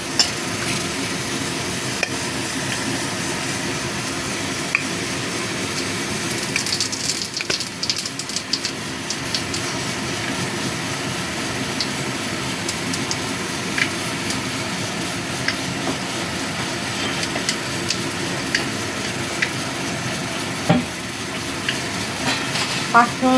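Panch phoron five-spice seeds frying in the same hot oil used earlier for pomfret, a steady loud sizzle with crackling pops running throughout.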